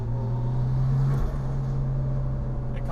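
A Nissan R33 Skyline sedan engine comes on boost, a loud steady drone from inside the car that holds and then drops slightly in pitch as it builds.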